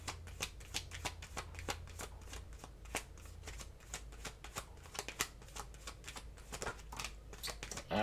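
A deck of tarot cards is shuffled in quick, uneven riffling snaps and soft slaps, close and quiet, with no voices.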